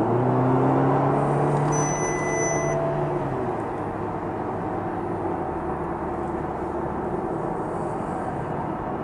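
Audi TT lapping a race circuit, its engine roaring loudly and steadily from start to finish, with pitch sweeps early on as it shifts and accelerates, then a dense sustained drone.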